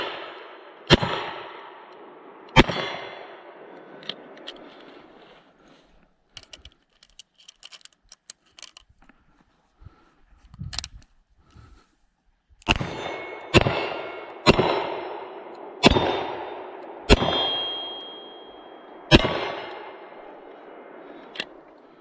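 A Ruger GP100 Match Champion revolver fires .38 Special and .357 Magnum rounds: a few sharp, ringing reports come first, then after a quiet stretch of small clicks, a faster string of about six loud shots, each with a short decaying echo.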